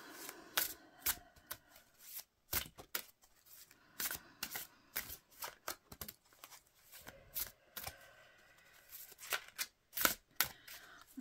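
Oracle cards being shuffled by hand for a Yule reading, a run of crisp riffling bursts and soft slaps in an irregular rhythm, close and fairly quiet, with no talking.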